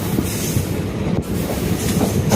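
Passenger train running between Thanjavur and Uthamar Kovil, a loud steady rumble of wheels on rails with clattering and faint squeal, heard close and continuous without speech.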